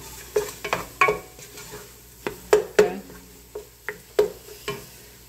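A roux of flour, butter, garlic and meat cooks in a pot as a utensil stirs it. Soft scraping strokes and light sizzling sound close and repeat irregularly, with no talking.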